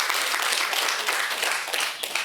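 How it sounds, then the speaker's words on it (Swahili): Audience applause at a women's workshop in Hanang ahead of International Women's Day, a dense, steady wash of many hands clapping together throughout, loud and close with no speech over it. "Tuwapigeni makofi shirika la Water Aid."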